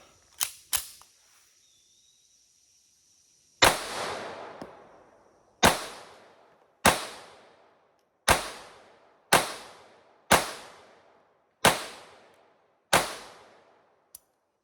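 A Colt Model 1903 Pocket Hammerless pistol firing .32 ACP rounds, a couple of clicks, then eight sharp shots in a steady series about a second apart, each with a short decaying echo, with no talk.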